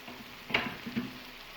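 Cooked rice and vegetables are tossed in a hot pan for chicken fried rice, a quiet sizzle broken by two short scraping, stirring bursts.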